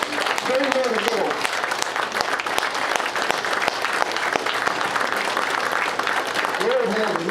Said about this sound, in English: I think we all deserve a standing applause for Terry Supper